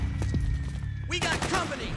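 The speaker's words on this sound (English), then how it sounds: "Suppressing fire." Dense bursts of gunfire and explosions from a battle in Metal Gear Solid 4, loud and continuous, with voices shouting over the firefight.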